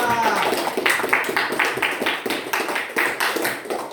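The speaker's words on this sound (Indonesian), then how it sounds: "beri tepuk tangan untuk Aldi Syahputra" Classroom clapping for a student, Aldi Syahputra, during an Indonesian social studies teaching-practice lesson; a small group claps in quick uneven bursts for a few seconds, with some voices mixed in.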